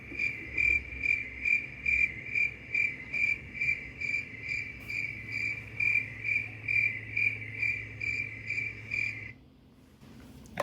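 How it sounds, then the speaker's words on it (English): Cricket chirping sound effect from a streamer's alert soundboard: a steady high pulsing chirp repeating rhythmically for about nine seconds, loud and alone, then cutting off abruptly. "And crickets, which is probably too long."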